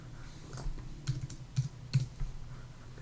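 Keys click on a computer keyboard in short bursts of a few quick strokes, soft and close, with quiet pauses between.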